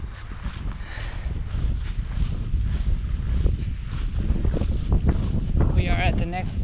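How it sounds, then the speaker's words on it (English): Wind buffets the microphone on an outdoor outing, a steady low rumble and rush throughout with gusts rising and falling. A faint voice may be audible near the end. "like the wind is blowing on there"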